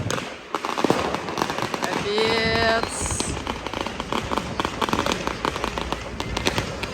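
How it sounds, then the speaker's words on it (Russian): Firecrackers and fireworks bang and crackle all around on Sant Joan night in a Barcelona street, with sharp, dense, irregular reports and a whistling rocket amid crowd noise and nearby voices. "Рядом со мной девочка вот тоже кидает какие-то шарики, которые взрываются."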